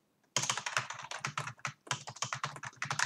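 Quick bursts of computer keyboard typing while a function is written in R code, the keystrokes close and crisp in two runs split by a short pause, with no voices.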